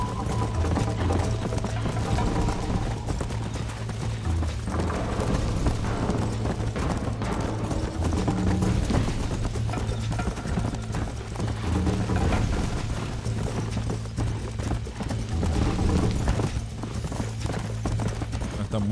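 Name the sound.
horse galloping in Red Dead Redemption video game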